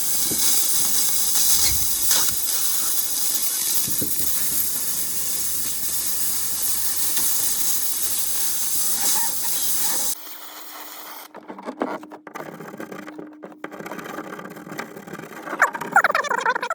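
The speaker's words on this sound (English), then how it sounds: "with the steam, it just blows it right off" A Harbor Freight steam cleaner hisses steadily and loudly while stripping 25-year-old window tint, a continuous rushing spray that cuts out partway through, leaving quieter scraping and rubbing sounds.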